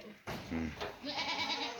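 Black goats on a farm bleat in short, wavering calls, one clear nearby cry followed by more overlapping bleats against faint farmyard background noise.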